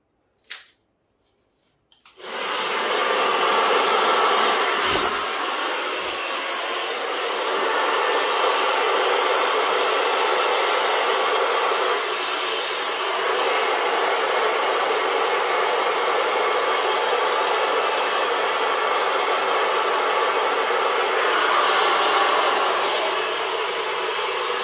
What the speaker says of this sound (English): Grab my hairdryer.